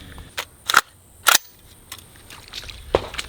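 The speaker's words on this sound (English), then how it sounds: "we'll shoot the 55 grain suppressed and then the 77 grain suppressed" Suppressed rifle shots with Winchester 55 grain and AAC 77 grain ammunition: a few sharp, fairly loud cracks spaced irregularly, each ending abruptly, with faint clicks between them.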